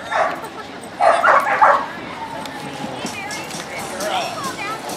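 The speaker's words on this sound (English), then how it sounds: "Here comes the dog" A dog at a dock jumping competition gives short bursts of barking and yipping, loud and near, amid background voices and crowd chatter.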